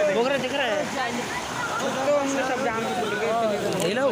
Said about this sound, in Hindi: झरने की तरह पानी गिर रहा है।